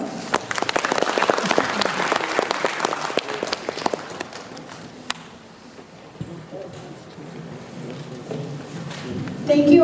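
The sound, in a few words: audience applause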